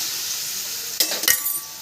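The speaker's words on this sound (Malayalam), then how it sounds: "ഇനി കുറച്ച് നെയ്യ് ഇട്ടിട്ട് അതിൽ അണ്ടിപ്പരിപ്പ് മുന്തിരി വറുത്തെടുക്കുക" Cashews and raisins frying in ghee give a steady close sizzle, with a couple of sharp utensil clinks and stirring scrapes near the end.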